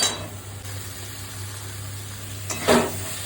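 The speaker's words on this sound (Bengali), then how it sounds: "মশলাটা কষে গেছে, তার চিকেনটা দিয়ে দেবো।" Chicken going into fried masala for a curry gives a steady, moderate sizzle with a low hum beneath, then a brief louder burst of crackle and a clatter near the end; no one speaks.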